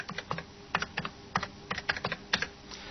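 Someone types an ID on a computer keyboard while connecting a terminal to an online service, with a quick, uneven run of close, crisp key clicks spaced by short pauses.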